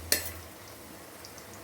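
Dry fruits hit hot ghee in a pan with one sharp sizzling burst, followed by a faint, steady frying hiss with no talking.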